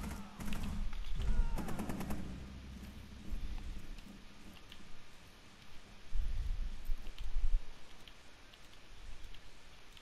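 Rapid bursts of close gunfire crackle in a Rainbow Six Siege multiplayer match, a dense volley early on followed by scattered shots and thumps over steady background game noise.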